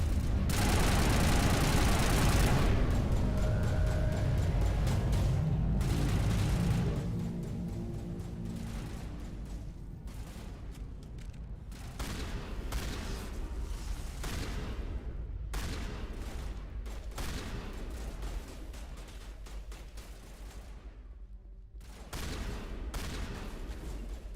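Rapid repeated gunfire from a weapon in Mass Effect Legendary Edition crackles in dense bursts over a low engine-like drone, loud and near at first, then continuing in choppy volleys with short pauses, no speech.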